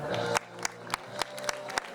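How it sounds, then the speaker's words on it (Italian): Children and adults at a primary school end-of-year party in Monteortone, Abano Terme clap together in a steady rhythm, about seven sharp, evenly spaced claps over a faint background murmur. "E un applauso forte per applausi,"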